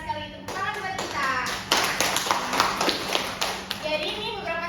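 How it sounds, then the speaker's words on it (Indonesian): Schoolchildren clap together in an elementary classroom, a bright scattered patter that swells in the middle and carries on through the second half, with young voices chattering and an adult speaking over it. "tepuk tangan buat kita"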